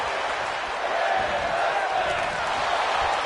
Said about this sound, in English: the crowd here yelling women wrestling